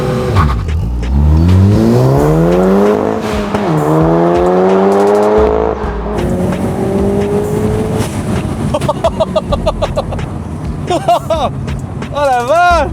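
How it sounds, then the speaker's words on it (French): A BMW M4 accelerates hard, its engine rising in pitch through loud revving sweeps. Sharp, fluttering dump-valve discharges follow near the end, with people's excited voices mixed in. "Oh la décharge de dump valve, c'est une dinguerie."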